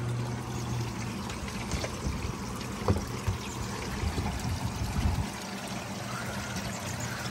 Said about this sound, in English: Water from the pond pump comes in here, so that's the pipe. It comes in here, falls onto the screen mesh